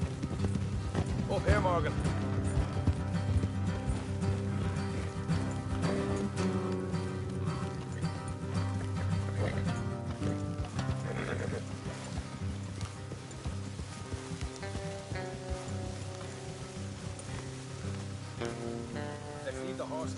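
Horses galloping in the Red Dead video game, a steady rhythmic clip-clop of hooves running beneath game music, with a voice speaking over it.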